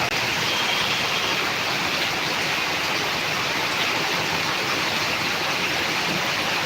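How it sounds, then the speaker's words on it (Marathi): Torrential downpour during flooding in Karnataka, a dense, unbroken roar of heavy rain and rushing water that holds steady and loud throughout with no voices. "अतिवृष्टी काय आहे ते पहा"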